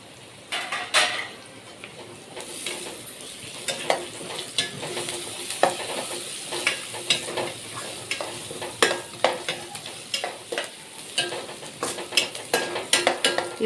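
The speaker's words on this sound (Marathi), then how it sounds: "आता टाकू कोथिंबीर आणि कढीपत्ता." Coriander and curry leaves sizzle in hot oil in a pan for poha while a spoon stirs and scrapes against the metal in quick, irregular clinks over a constant frying hiss, with no talking.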